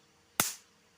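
A homemade jatka shock machine fires a single sharp spark bang, loud and close, with a quick crack that fades over about a quarter second, with no talking.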